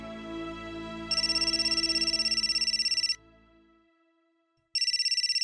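A phone ringtone plays a repeating electronic trill over a soft melodic tone, stops for a moment, then starts ringing again.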